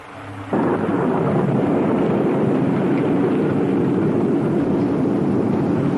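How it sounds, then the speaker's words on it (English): A deep, loud rumble of thunder rolls in suddenly and holds steady, a dense continuous roar that fills the space. "It sounded like thunder."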